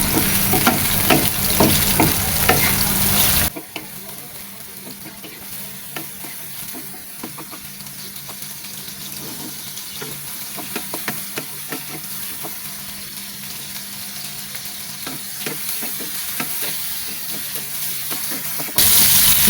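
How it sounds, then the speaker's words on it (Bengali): Shrimp coated in turmeric and salt fry in hot oil, a steady crackling sizzle with occasional stirring clicks, louder at the start and end. "ভাজতে ভাজতে মাছের কালারটা পরিবর্তন হয়ে গেছে"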